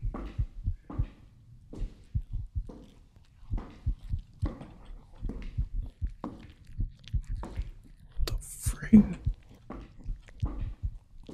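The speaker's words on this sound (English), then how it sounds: "Yo, my heartbeat." A horror video game heartbeat effect throbs in a steady, loud, close double-thump rhythm through the whole stretch, with a brief higher noise burst near the end.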